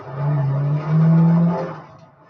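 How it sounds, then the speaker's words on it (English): Carbureted car engine revving on a cold day, a loud close rumble rising and holding in two sustained pulls before easing off, with no talking. "Love to hear that carburetor."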